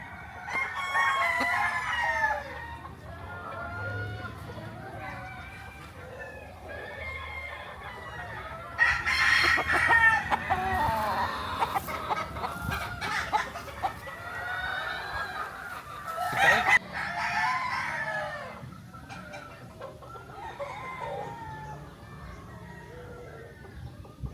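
Gamefowl roosters crow repeatedly at a breeding farm, with many calls overlapping near and far, mixed with clucking and a few louder bursts, and no speech.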